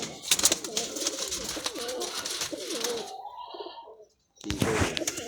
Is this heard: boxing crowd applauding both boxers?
no